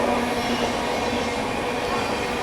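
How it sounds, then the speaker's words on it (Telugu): An Indian Railways Gatimaan Express pulls into a station, a steady low rumble of rolling wheels and rail noise with a faint hum, fairly constant throughout. "మన ట్రైన్ అయితే వచ్చేసింది."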